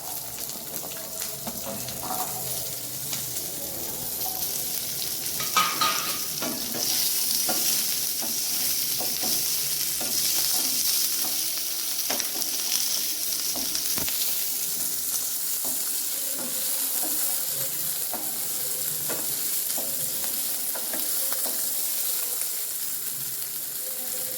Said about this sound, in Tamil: சின்ன வெங்காயத்தை வந்து நம்ம போட்ட இன்க்ரீடியன்ஸ் கூட நல்லா சேர்த்து வதக்கிக்கலாம்.